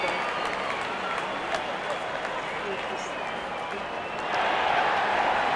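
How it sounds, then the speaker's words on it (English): Steady crowd applause and cheering in the Real Cricket 24 game during an India versus England T20 match, a continuous wash of clapping that swells slightly louder near the end. "Wonderful 50 and the crowd applauds."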